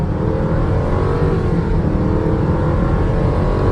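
A 2002 Ford Thunderbird Premium accelerates hard on a test drive, its engine note a steady, loud, continuous drone with road rumble, heard from inside the car with no talking.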